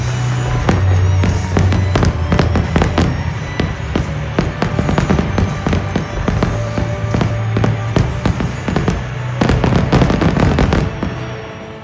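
Fireworks at a Trump inauguration ceremony in Virginia, a loud rapid barrage of sharp cracks and bangs popping irregularly and densely throughout, over a low rumbling background.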